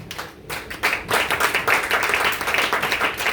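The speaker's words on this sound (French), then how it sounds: "Acclamez le Seigneur pour ce verset" A church congregation applauding, a dense burst of clapping that rises quickly and holds steady and fairly loud for a few seconds.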